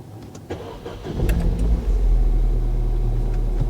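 A Ford Fiesta ST engine cranks briefly and then catches, settling into a loud, steady low idle rumble that runs on to the end, with no talk over it.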